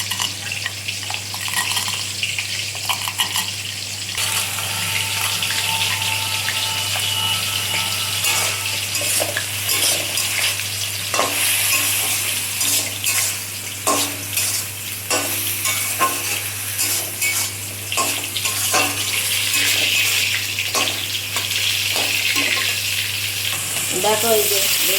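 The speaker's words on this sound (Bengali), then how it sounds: "দেখো এই যে বেগুনটা আমার ভাজা হয়ে যাচ্ছে" Brinjal slices coated in rice flour fry and sizzle in a pan, with steady scraping and stirring strokes over a continuous loud crackle and a low background hum.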